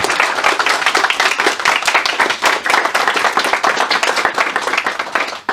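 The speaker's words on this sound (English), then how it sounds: "Round of applause for Ricardo." Audience applause after a conference talk at an open source meetup, loud close clapping from a small crowd that continues steadily for about five seconds.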